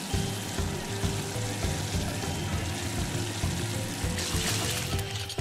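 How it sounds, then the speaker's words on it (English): Marshall's water cannons spray in a Paw Patrol: On a Roll! video game, a steady, hissing rush of water over a looping musical backing with short game tones. No one talks. "Now Marshall needs to reach them and use his water cannons to give them a bath."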